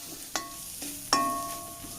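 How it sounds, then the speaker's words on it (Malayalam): Onions and chillies sautéing in a pan, a low soft sizzle with two ringing metallic clinks of a spoon against the pan, close and quiet, no voices. "ഉള്ളിയും മുളകൊക്കെ വഴന്ന് വന്നിട്ടുണ്ട്"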